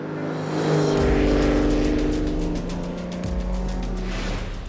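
A Ferrari race car engine roars close by, revving up to a high whine, then dropping pitch as it sweeps past, followed by another surge of revs; loud and unaccompanied by voices.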